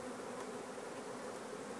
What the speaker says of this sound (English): there are a lot of bees in here